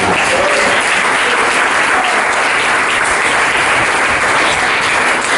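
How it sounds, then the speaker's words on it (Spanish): Loud, dense applause fills a church service as the congregation claps for God after an evangelical sermon, a continuous roar of hands without a break. "Dale un aplauso a ese Dios."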